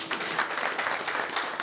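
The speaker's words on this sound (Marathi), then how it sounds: "जोरात वाजा टाळ्या." An audience in a devotional gathering claps steadily together, a dense continuous burst of applause of moderate loudness lasting a moment.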